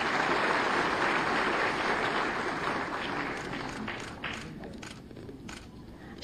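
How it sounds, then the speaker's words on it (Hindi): An audience claps loudly and steadily for students at a school admission-kit distribution event in Lucknow, the dense applause fading slightly toward the end, with scattered individual claps standing out. "आप सभी जोरदार तालियां बजाएं इन बच्चों के लिए।"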